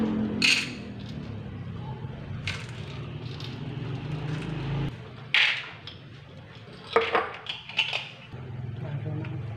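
Ingredients being mixed in a bowl: scraping, clinks and knocks of a utensil against the bowl, in irregular bursts, close and moderately loud, with a pause in the middle.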